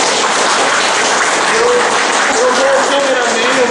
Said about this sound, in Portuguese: E uma salva de palmas para ele.